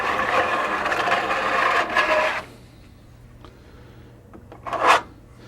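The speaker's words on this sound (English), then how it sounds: "This is a 1/4-inch square serrated edge trowel, because what you want to leave are some fine lines of glue." Rasping scrape of a 1/4-inch square-notched serrated trowel spreading glue in fine lines while building model railroad track, steady for about two seconds, then quiet, then one short, louder scrape near the end.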